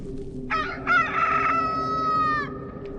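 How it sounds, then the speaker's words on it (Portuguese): A rooster crows once, loud and close, its drawn-out call rising and holding for about two seconds before cutting off over a faint background hum. "o galo cantou."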